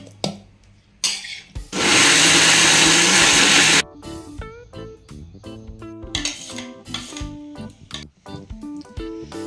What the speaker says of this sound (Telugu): కొంచెం ఉప్పు వేసి మిక్సీ పట్టాలి